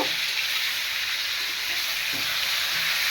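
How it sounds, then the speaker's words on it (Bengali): Hog plums (amra) frying in hot oil with bay leaves and garlic, giving a dense, continuous hiss and sizzle that stays close and even throughout. "আমড়াগুলি তেলের মধ্যে আমি ভেজে নিব।"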